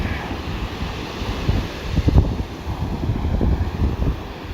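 Ocean surf and wind at Atlantic City beach by the Steel Pier and boardwalk, a steady broadband rush with gusty microphone buffeting and a louder swell midway, no voices.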